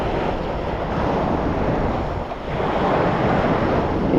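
Ocean waves break continuously on the beach at Lido Key days before Hurricane Helene, a loud, close surf roar with wind noise that dips briefly and then surges again, no voices.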